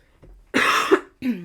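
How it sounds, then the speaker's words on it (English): A single harsh, close cough followed by a shorter throat-clearing cough, loud and abrupt against near silence. "I knew that wasn't going to be a bad cough"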